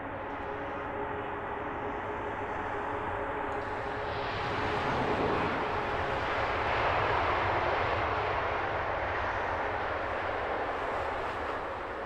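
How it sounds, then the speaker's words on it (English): A British Airways Boeing 787 Dreamliner arriving from Baltimore and landing at London Heathrow, its jet engines a steady broad roar that swells slightly midway and stays loud and continuous, with no voices. "British Airways 228, number 2 to land. It's a Dash 8 Dreamliner in from Baltimore."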